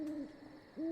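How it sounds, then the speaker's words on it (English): An owl gives two clear hoots, one at the start and one at the end with a short gap between, faint and fairly distant in an otherwise quiet night setting. "I heard an owl."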